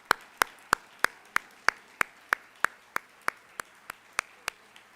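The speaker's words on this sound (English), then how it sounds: "Huge round of applause." A single person claps alone for the teachers at a gathering, with about fifteen crisp, evenly spaced claps that slowly fade toward the end.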